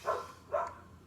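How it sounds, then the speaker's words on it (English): Two short, sharp dog barks about half a second apart, moderately close, with quiet room noise between them. "Sorry about the dog barking."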